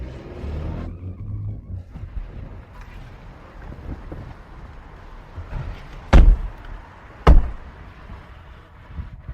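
Someone gets into a car, with rustling and shuffling movement followed by two sharp, loud door thuds close together near the end, heard over a low outdoor rumble without speech.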